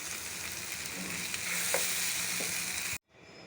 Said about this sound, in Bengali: এখন এই ভাজবো মাংসটা আমি অনেক টাইম রেস্টে রেখে দিয়েছিলাম এখনই দিয়ে দিলাম আস্তে আস্তে হতে থাকবে